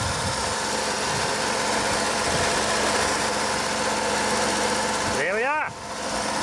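An engine idles steadily after a start by an aftermarket permanent magnet starter motor running on an ESM Century battery. The close, even hum and vibration carry on throughout, with a brief falling whine near the end.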